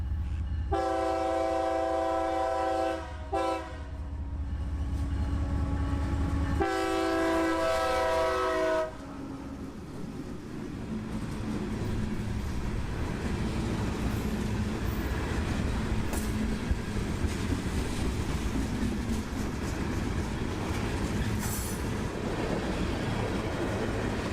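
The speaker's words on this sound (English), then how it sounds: "catching the train notching up as it approached Port Manatee" A CSX freight train's horn sounds in long, loud blasts with a short pause between them as it notches up approaching Port Manatee, then the train rumbles and clatters past steadily.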